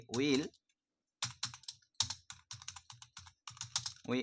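Quick bursts of clicky keystrokes on a computer keyboard, typed in short uneven runs with pauses between, close and clear, with a brief voice at the start and end.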